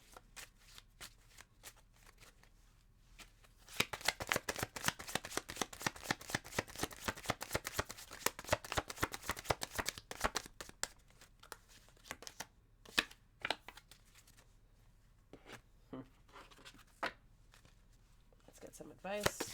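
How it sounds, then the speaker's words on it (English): Oracle cards shuffled by hand nearby, a dense run of rapid riffling flutters that slows into scattered slaps and softer shuffles, with a voice speaking quietly underneath. "Let's mix up the cards a little bit and pull again."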